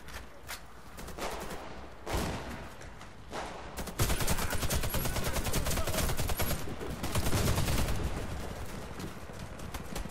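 Automatic weapon fire in the Warface shooter game, an H&K MG36 among the guns, with bursts of rapid shots that build into a loud, continuous fusillade, dense and unbroken for the second half.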